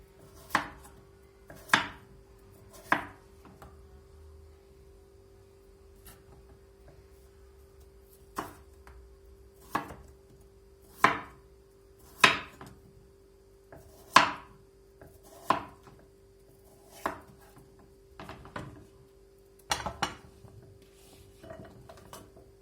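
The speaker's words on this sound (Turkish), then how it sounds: "Patateslerimi bu şekilde hepsini halka halka doğrayacağım." A knife chops through potato onto a cutting board, slicing it into 1 cm thick rings in separate sharp strokes, about a dozen spaced cuts, close and clear.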